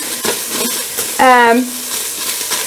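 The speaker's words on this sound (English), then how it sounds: "we're going to saute, dry fry the onions a little bit first" Onions dry-frying in a hot pan sizzle and crackle steadily, with a short tonal vocal sound cutting in briefly partway through.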